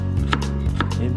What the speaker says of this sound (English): Now chop them potatoes